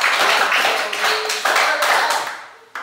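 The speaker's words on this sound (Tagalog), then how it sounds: "Bigyan ng limang palakpak si Princess" A classroom of students claps in unison, giving about five quick, sharp claps in a burst that then trails off into softer scattered clapping.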